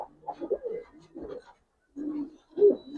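Pigeons coo in a loft of Giribaz tumbler pigeons kept for tournament flying, giving several soft, low, throaty rounded calls in close bursts with short pauses between them.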